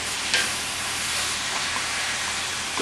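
Chicken and turkey meat brown in a pan, a dense, even hiss of sizzling fat holding steady throughout, loud and close with a faint clatter of stirring.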